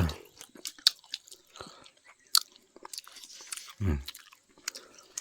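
Close, soft chewing and crunching from people eating a home meal of cucumber salad and pork larb, irregular mouth sounds with a few sharper crunches and brief murmured speech.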